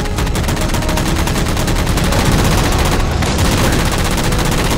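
Sustained rapid gunfire from the Halo 4 video game, aimed at jammers, rattles loud and continuous with dense overlapping shots and no pauses.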